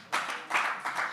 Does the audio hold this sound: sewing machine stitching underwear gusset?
no